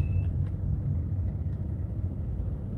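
A car engine rumbles low and steady throughout, a constant close-up drone with no voices over it.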